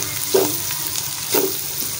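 Cumin seeds fry in a pan with a bright, close sizzle, and two brief scraping stirs break through the crackle.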